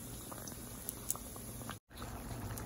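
Chimichangas frying in hot oil until golden, a steady dense crackling sizzle with scattered pops throughout, briefly cutting out for a moment before resuming.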